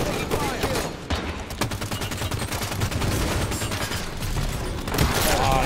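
Rapid bursts of scattershot fire in Halo 5, crackling and dense across the whole stretch in a busy match, with game noise layered throughout.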